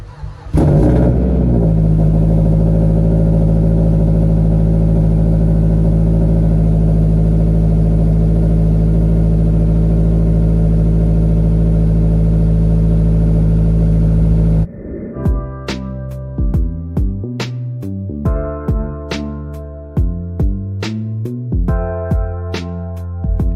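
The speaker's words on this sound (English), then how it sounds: "let's go ahead and get this Mazda cold start" Mazda3 cold start after two weeks sitting, with a brief crank, then a loud steady high idle droning for about fourteen seconds before it cuts off, followed by clattering sounds.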